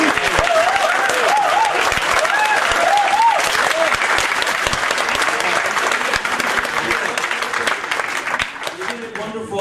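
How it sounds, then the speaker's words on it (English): Sustained audience applause after a university debate at LUMS, a loud, dense clapping roar filling the hall for several seconds with voices calling out over it, tapering slightly at the end. "One more round of applause."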